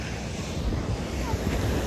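Sea waves on Khukhri beach in Diu, a steady broad wash of surf mixed with wind rumble on the microphone, continuous and fairly loud, with voices faintly underneath.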